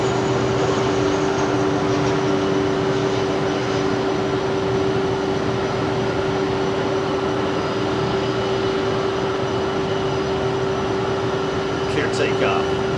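Near a busy Miami airport, a jet's engines roar in a steady, dense wash with a constant whine held throughout, loud and unbroken, with faint talk near the end.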